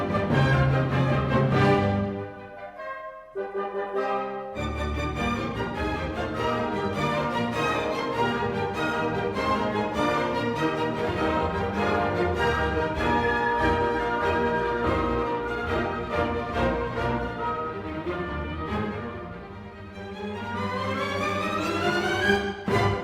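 Orchestral music from an AI-composed completion of Beethoven's 10th Symphony, with full ensemble passages playing continuously and a brief quieter pause near the start.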